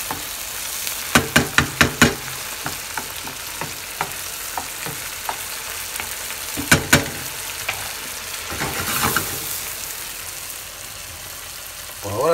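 Ranchero salsa for shrimp fries in a pan with steady sizzling, broken by clusters of sharp scraping strokes as it is stirred, close and fairly loud.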